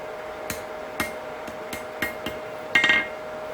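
A hammer strikes a forged medieval-style work knife blade at low heat to straighten it, delivering sharp, evenly spaced metallic blows at close range, then a quick cluster of three ringing hits at the end.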